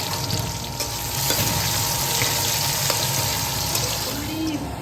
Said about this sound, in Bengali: এবার কেটে রাখা পেঁয়াজ কুচিগুলো এই তেলের মধ্যে দিয়ে দেবো